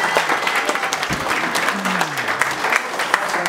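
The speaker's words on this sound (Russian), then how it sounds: "Поэтому еще бурные аплодисменты нашим героям." Thunderous applause for Lezgin champion athletes, a packed crowd clapping hard and continuously with sharp individual claps standing out and a voice briefly rising beneath.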